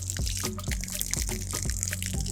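Water splashes and patters steadily from an Eagle Rock 40D nylon TPU dry bag rigged as a camping shower, with irregular drips and trickles close by and no voices.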